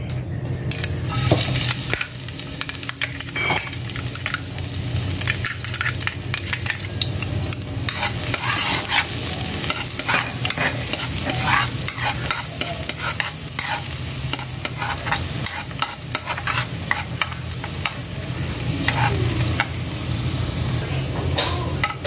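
Garlic sizzles steadily in hot oil in a pan while being stirred, a continuous close frying crackle with frequent scraping spikes from the utensil, no talking.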